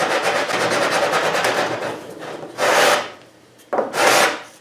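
Hand sanding along the edge of a wooden tabletop, raspy rubbing strokes in a steady back-and-forth rhythm followed by two louder, longer passes, close and alone with no talk.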